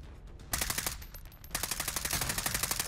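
Rapid gunfire in a first-person shooter game, loud bursts of rattling shots starting abruptly, pausing briefly, then resuming as a sustained fast volley.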